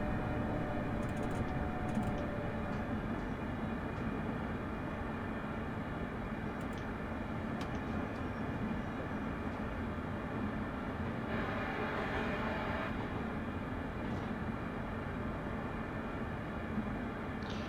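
A ScotRail train in Train Simulator Classic rolls into Stirling station with a continuous low rumble and hum of wheels and motors, steady and even throughout, with faint squeaks and clicks over the top.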